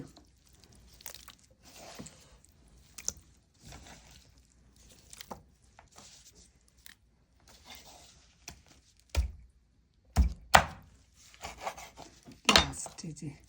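Raw chicken being cut with a knife, with scattered scraping and rubbing taps followed by a few sharper chopping knocks toward the end, fairly close and fairly quiet.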